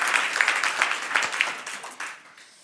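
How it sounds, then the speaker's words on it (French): Audience applauding finalists at a women's entrepreneurship awards ceremony, a dense patter of many hands clapping that holds steady and then gradually fades toward the end. "On les applaudit bien fort, nos 5."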